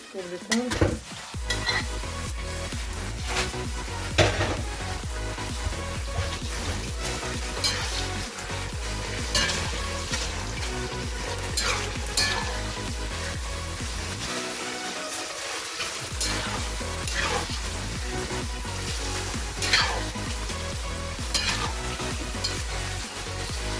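Meat frying loudly in a pan over fried onions for Tajik plov, a steady dense sizzle with stirring and occasional utensil scrapes throughout.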